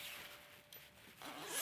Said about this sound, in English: So, I'll just zip that up